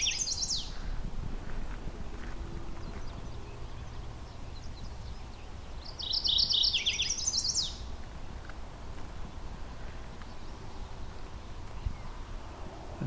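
Warblers singing at a leafy forest edge beside a cleared dirt field: two short, high, trilling phrases, one at the start and one a few seconds later, over soft steady background noise.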